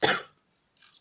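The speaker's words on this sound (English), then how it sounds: "This cough is really, really annoying." A single sharp cough, followed by a softer breathy catch a moment later.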